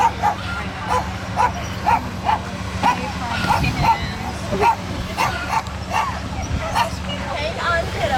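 Rescue puppies from Dixie County arriving for adoption bark, yip and whimper in a close, repeated chorus, with people talking over and between the rapid yelps.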